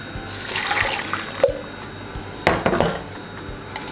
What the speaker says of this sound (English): I will add a little bit of water to it.